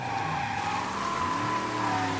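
Car drifting in Mafia 3, tires squealing in a steady sustained screech over the rumbling engine, continuous and close for the whole stretch.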